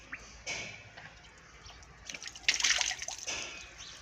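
Water splashes and drips as a man washes his face by hand during wudu, with handfuls of water sloshing and spattering in bursts close by, the loudest splash coming midway.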